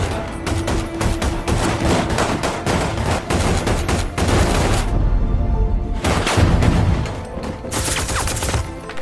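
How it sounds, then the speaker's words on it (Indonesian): A film scene shootout erupts near a caravan with rapid, loud bursts of gunfire, overlapping shots and heavy booms, a short lull, then more volleys. "Aksi tembak-menembak pun terjadi"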